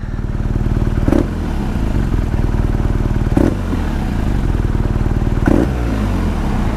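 A 2020 BMW R nineT Scrambler engine idles nearby with a loud, steady, throbbing rumble, marked by three brief clicks at roughly two-second intervals, with no talking.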